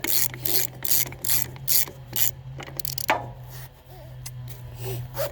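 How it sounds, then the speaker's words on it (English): A hand ratchet tightens the bolts on a Wacker Neuson WP 1550 plate compactor, giving rapid close pawl clicks in repeated strokes over a steady low hum. "And just keep doing this until you can't tighten them anymore."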